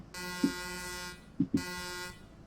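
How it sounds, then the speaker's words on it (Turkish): A truck horn in the Euro Truck Simulator 2 game sounds as a steady, fairly faint tone of about one second, then a brief pause and a second shorter blast, with small clicks at each start and no talk. "Kornasına bakalım."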